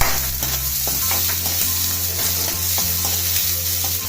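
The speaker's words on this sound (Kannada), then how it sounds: "ಸೊ ಈರುಳ್ಳಿ ಎಲ್ಲ ಚೆನ್ನಾಗಿ ಬೇಯಿಸಿ ನಿಧಾನ ಸಣ್ಣ ಉರಿ ಮೇಲೆ ಬೇಯಿಸ್ರಿ" Chopped onions frying slowly on a low flame, a steady close sizzle with a low hum beneath and occasional soft stirring knocks, no voices.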